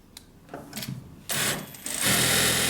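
A new sewing machine winding its bobbin starts with a few soft clicks and rustles, then whirs up into a loud, steady mechanical buzz that rises a step higher and holds.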